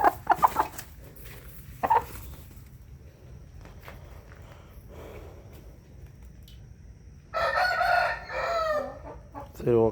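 Backyard chickens cluck in scattered bursts, with a rooster crowing loudly near the end; footsteps and soft movement fill the quieter stretches between the birds, and a brief voice is heard.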